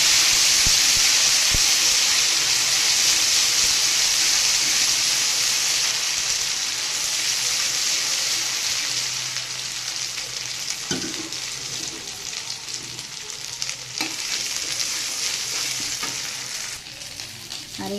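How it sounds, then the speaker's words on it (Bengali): A ground paste of cumin, coriander, fennel and ginger frying in hot oil gives a loud, continuous sizzle that gradually eases, broken by a few stirring clatters toward the end. "প্রথমে তেলে দিয়ে দিচ্ছি। এখানে আছে জিরে, ধনে, তারপরে মৌরি একসাথে মিশিয়ে বাটা"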